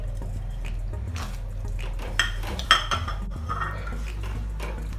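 Metal spoon scraping and clinking in a cooking pan as peas and fried paneer are mixed for dhaba-style matar paneer, with a few sharper clanks over a steady low hum, no talking.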